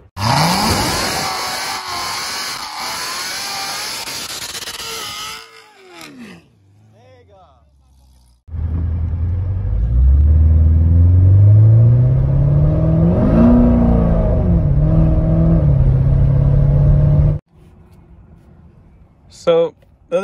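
Chevrolet Corvette C7 Z06 making test passes: a loud engine roar fades out, then after a quiet gap the car accelerates hard with a rising drone for several seconds before cutting off.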